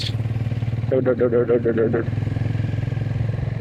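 A motorcycle engine runs while riding on a mountain road, with a steady, close, pulsing mid-range drone throughout and a brief clattering burst in the middle.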